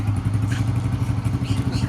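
A motorcycle engine idles close by, a steady low throbbing rumble that runs unbroken and loud for the whole stretch, with no talking over it.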